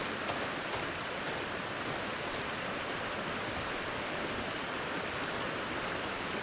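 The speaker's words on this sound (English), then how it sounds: "It's an actual flowing river." Flowing river in a video game, a dense, steady rush of water with no breaks, close and fairly loud, heard alone.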